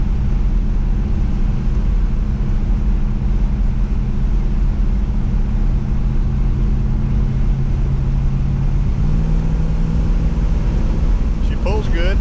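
Engine of a 1967 Plymouth Fury with a 440 big-block V8 drones loudly and steadily at about half throttle, a deep rumble climbing in pitch as it accelerates, with cabin road noise throughout.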